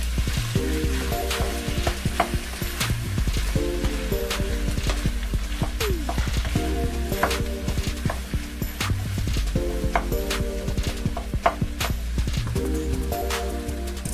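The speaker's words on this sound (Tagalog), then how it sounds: "Haluin po natin ng haluin" Pork and chicken barbecue pieces sizzle and fry steadily in a pan while being stirred, with repeated scraping and clacking strokes from the utensil over a loud, continuous crackle and no talking.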